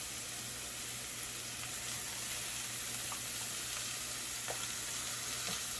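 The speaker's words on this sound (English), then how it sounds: "I'm going to add in some of this onion. Get them cooking." Chopped onions sizzle and fry in a pan over medium heat for a homemade spinach quiche, a faint, steady crackling hiss with occasional light stirring and no voices.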